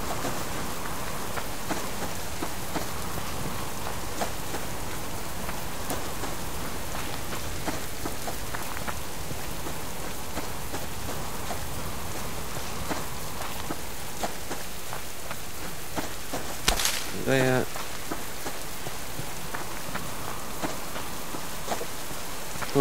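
Rain falls steadily in the survival video game Subsistence, a dense constant patter on surfaces with one brief louder clatter near the end.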